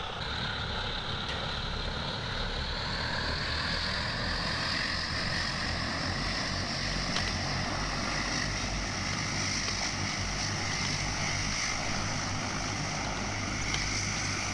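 A Super Scooper firefighting plane skims across a lake to scoop water, a loud, continuous roar of engines and rushing water that holds steady for about fifteen seconds.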